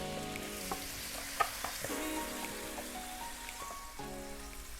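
Chopped tomatoes go into a pan of frying onions for a vegetable biryani and set off a steady, close sizzle with light crackles and a few stirring clinks, and no talking.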